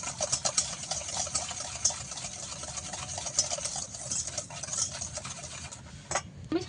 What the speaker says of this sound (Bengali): চিনি আর ডিমটাকে ভালো করে একটু ফাটতে হবে।